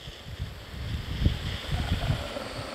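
Wind gusts buffet the microphone outdoors while a Masterbuilt digital charcoal smoker is lit, producing a loud, uneven low rushing that swells and fades throughout.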